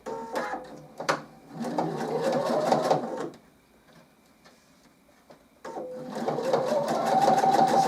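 A sewing machine stitches a reusable washing up sponge in close, loud bursts of rapid stitching, stopping briefly for a quiet gap before starting up again.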